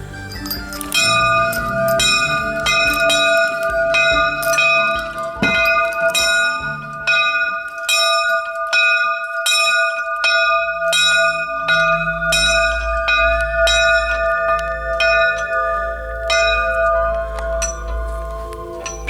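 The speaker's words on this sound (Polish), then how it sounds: "Pociągam za sznur i rozpoczynamy dzwonienie." A rope-pulled church bell rings loudly and repeatedly, strikes overlapping into a sustained metallic ringing that resonates throughout, with a low rumble joining later.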